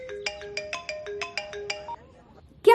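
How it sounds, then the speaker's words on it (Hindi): A phone rings with an incoming-call ringtone, a loud, close melodic pattern of repeated electronic notes that cuts off near the end before a brief louder sound. "मैं बाद में कॉल करती हूँ, भैया का फोन आ रहा है।"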